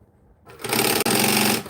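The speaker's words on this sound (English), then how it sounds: "This is a really good place to practice your speed sewing." A sewing machine stitching fabric layers together at high speed starts abruptly after a brief quiet and runs as a loud, steady, rapid mechanical whir with a momentary stutter midway.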